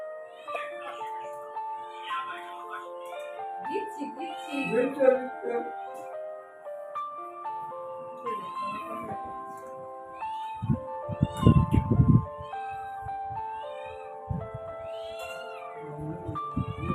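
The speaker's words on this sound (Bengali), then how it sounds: "পেট যতক্ষণ না শান্ত হবে ওরকম ম্যাও করে ডেকে যাবে" A cat meows again and again in drawn-out, insistent calls, mixed with a person talking and some clattering nearby.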